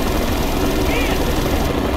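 Steady helicopter rotor and engine drone in the video game Mercenaries 2, loud and continuous, a constant throbbing roar with shouted voices mixed in.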